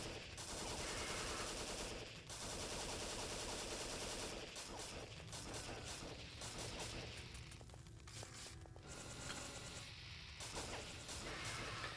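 Burst-mode gunfire in a video game: continuous loud, dense rattling volleys with brief gaps between bursts and crashing impacts, dominating throughout with no talk.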